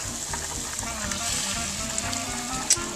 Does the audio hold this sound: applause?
no